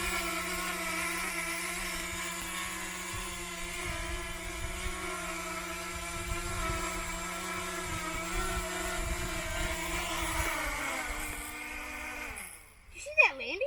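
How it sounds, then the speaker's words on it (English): A Holy Stone HS710 brushless foldable GPS drone hovers with a steady high whine of layered propeller tones, then its pitch drops as it lands and the motors spin down near the end. "this is the HS710 brushless foldable drone with GPS"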